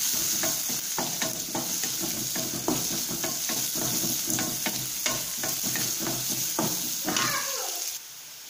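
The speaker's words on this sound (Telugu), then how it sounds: "వేసుకొని గోల్డెన్ బ్రౌన్ కలర్ వచ్చే వరకు వేయించుకుందాం." Onion pieces frying in a pan for a cluster bean and moong dal dish, giving a loud continuous sizzle broken by frequent rhythmic scrapes of a stirring spoon, until the sizzle suddenly drops away near the end.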